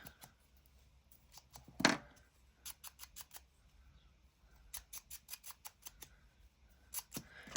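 Scissors snip through paper for a junk-journal specimen-slide craft, a quick series of crisp, close cuts in several bursts with a louder rustle between them, no talking.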